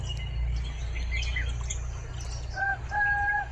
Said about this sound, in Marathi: पक्ष्यांचा किलबिलाट आणि कोंबड्याचं आरवणं ह्यांनी दिवसाची सुरुवात खूप छान झाली आहे.